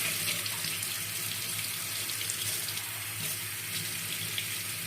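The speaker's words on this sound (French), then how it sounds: "L'eau du robinet chaude." Hot water runs steadily from a kitchen tap, a continuous close splashing hiss with no voices, heard while mixing a chocolate crazy cake.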